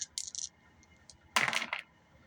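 Dice clatter and tumble on a tabletop during a Bolt Action World War II wargame, a few light rattles followed by one louder burst of rolling dice, close and quiet with no talking.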